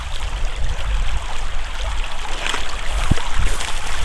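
A woodland creek flows steadily, a loud, continuous rushing wash of water heard up close, with small splashy accents and no voices.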